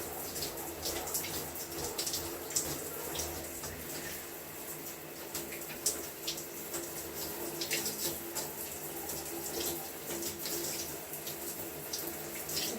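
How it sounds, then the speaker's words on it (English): Tap water runs steadily onto hair being rinsed after a Moroccan Rhassoul 5-in-1 clay treatment on wash day, a continuous splashing with irregular louder spatters, close and without talk. "putting your hair underneath the water"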